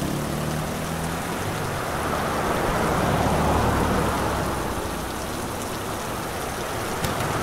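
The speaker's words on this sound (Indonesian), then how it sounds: "Pas di jalan malah hujan deres." Heavy rain pours steadily in an animated horror cartoon, a dense, loud, continuous wash of falling water with no voices.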